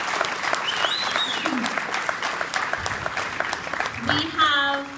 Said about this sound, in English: So can we give those folks a round of applause?